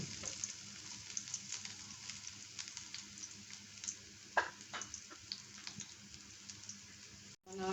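Two large split onions fry in oil in a pan for a Bengali mustard kangla fish dish, a steady close sizzle with small crackles and pops throughout and a brief break just before the end.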